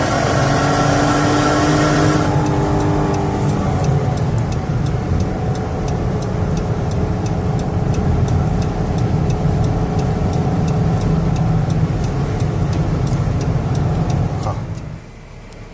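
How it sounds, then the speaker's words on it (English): A 2013 Dodge Caravan SXT wheelchair van driven hard on the highway at about 70 mph, its engine droning steadily under road and wind noise throughout, easing off only at the very end. "run them hard so you can hear the engine run and the transmission shift"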